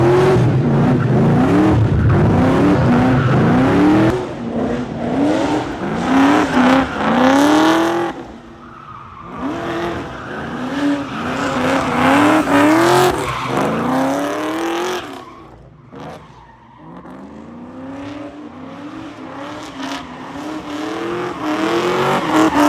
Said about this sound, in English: Steeda Mustang Pro Charged.